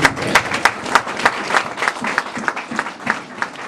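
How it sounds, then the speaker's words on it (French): A church congregation at a preaching service bursts into loud, enthusiastic applause, a dense wash of clapping with rhythmic surges and a few cheers, close and sustained. "On peut acclamer."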